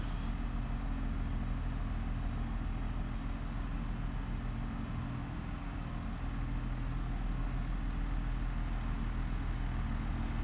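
Truck engine in Farming Simulator 22 during John Deere 8000 corn silage work on the Frankenmuth map, a steady low drone running unbroken and fairly quiet throughout, with no voices.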